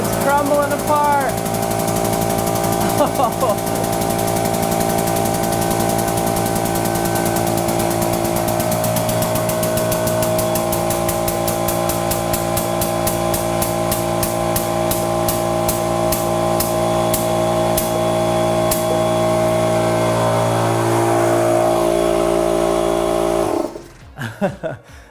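A hydraulic press slowly crushing a mirror-polished Japanese foil ball runs with a steady droning motor hum and faint crackles for about twenty seconds before stopping.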